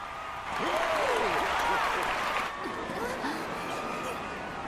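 A crowd in Final Fantasy XIV during a succession rite cheers and applauds in a steady wash of clapping and voices, fairly close and loud, with a character speaking over it.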